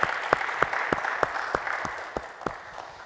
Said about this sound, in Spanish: le damos un fuerte aplauso a nuestro Señor Jesús en este día